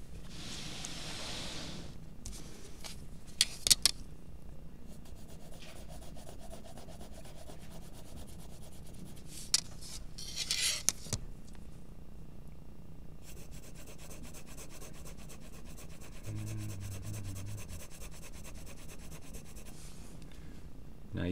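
Graphite pencil shading on paper for a Wacom logo drawing, close soft scratchy rubbing strokes in repeated bursts with pauses between, occasional light taps, quiet and alone.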